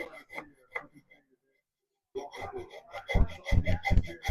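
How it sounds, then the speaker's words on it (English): A hacksaw cutting through material at a cobbler's workbench, starting with a few scattered scrapes, then a quiet gap, then a run of loud, fast, rasping back-and-forth strokes close by. "we're gonna use this hacksaw and see how this might not work"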